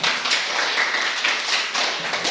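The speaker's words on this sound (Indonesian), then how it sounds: "tepuk tangan untuk kita semua" Classroom group clapping after a discussion session, a close, busy patter of many hands with individual slaps standing out, steady throughout and free of talk.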